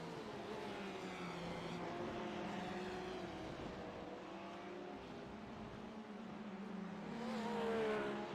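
Race cars in a sim racing event, a lapped BMW among them, hold a continuous engine drone at speed. It swells slightly near the end as a car draws closer, with no talk.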